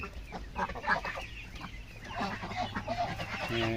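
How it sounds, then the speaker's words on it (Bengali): Domestic ducks on a farm call out nearby in short, overlapping honks and clucking bursts, a restless flock chattering continuously at moderate loudness. "দেখতে পাচ্ছেন আমার হাঁসগুলো কত বড় হয়ে গেছে দেখতে দেখতে।"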